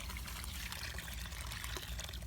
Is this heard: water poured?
yes